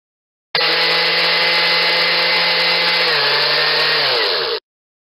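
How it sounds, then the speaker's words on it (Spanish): A household blender runs steadily for about four seconds, a loud dense whirring motor with its pitch sagging slightly toward the end before it cuts off abruptly, heard alone. "Licuadora."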